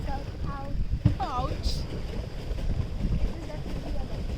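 Wind rushing past over a low steady rumble of a boat moving across a lake at Madupetty Dam in Munnar, with people talking briefly near the start.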